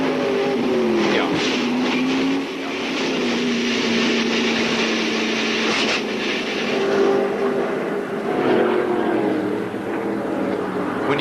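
1995 Busch Clash race car engine heard from inside Greg Sachs' car, a loud steady droning roar with shifting pitch throughout, overlaid with faint broadcast voices.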